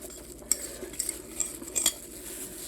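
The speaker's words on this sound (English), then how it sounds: "Then I'm going to stir it." A utensil stirs grated frozen salted butter into self-rising flour in a bowl, giving soft scraping with a few sharp metallic clinks against the side.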